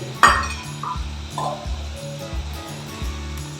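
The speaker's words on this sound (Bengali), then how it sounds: "নাড়তে থাকবো কেটে রাখা আলুগুলো এর মধ্যে দিয়ে দিচ্ছি" Cut potatoes being stirred in a cooking pot with a little water and spices for a spicy fish curry, with a loud clink at the start, then repeated scraping strokes and soft knocks against the pot alongside a faint sizzle.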